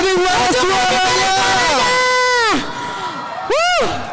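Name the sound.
crowd cheering for a team at a championship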